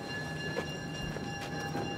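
A train passes along a railroad in a steady, full rumble with a faint rhythmic clatter, loud and continuous with no voices.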